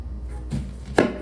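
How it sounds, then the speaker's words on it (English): An onion being chopped on a board while preparing a large fish for steaming in coconut milk: two knife strikes about half a second apart, the second sharper and louder, close by over quiet room tone. "So I'm gonna chop up my onion."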